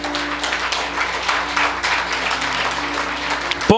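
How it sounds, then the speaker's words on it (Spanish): A church congregation claps together in steady, sustained applause during a sermon, the clapping continuous and fairly full, with a faint low hum running underneath. "Dale un aplauso al Señor."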